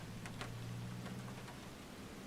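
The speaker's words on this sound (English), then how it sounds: "this is like some serious rain going on" Heavy rain drums steadily on a Cessna 172's cockpit in Microsoft Flight Simulator 2020 over the Amazon near Iquitos, a dense constant patter with a low engine drone beneath and a few brighter drop ticks.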